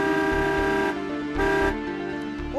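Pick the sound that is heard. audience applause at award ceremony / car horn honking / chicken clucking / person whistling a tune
car horn honking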